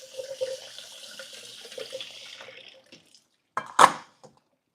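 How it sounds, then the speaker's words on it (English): Cold tap water running over seafood in a strainer at a kitchen sink, a steady close stream for a few seconds, then a stop and a short louder splash burst. "get your strainer and then just rinse with cold water"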